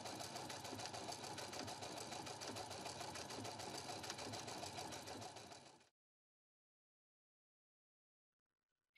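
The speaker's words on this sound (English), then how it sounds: "This is a seam overcast stitch, which seams and overcasts the fabric edge all at once." A Husqvarna Viking Platinum Plus sewing machine runs steadily, sewing a seam overcast stitch along a knit fabric edge, a fast even whir for about six seconds that then stops dead into silence.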